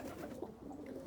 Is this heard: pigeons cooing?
yes